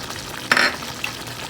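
Karahi cooking in a wok with green chili added, giving a short burst of sizzling and stirring clatter that rises sharply and then settles into a low background fry.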